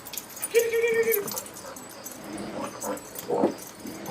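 A dog whimpers on an outdoor nature walk in August, thin whines rising early and again near the end over a steady outdoor background, with no talking in between.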